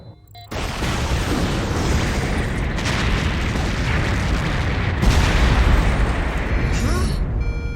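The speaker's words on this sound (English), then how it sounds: "An explosion." A heavy, sustained rumbling blast roars continuously, loud and booming like a nearby explosion, with a second surge partway through.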